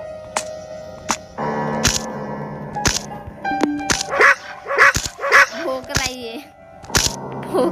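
A dog in the horror video game Endless Nightmare barks in a quick run of loud, close yaps over clicks and game sounds, with a voice talking alongside.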